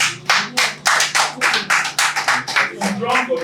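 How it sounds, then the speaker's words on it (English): A small group claps in quick rhythmic bursts at a traditional celebration, close and fairly loud, with voices murmuring underneath. "So please give him a round of applause."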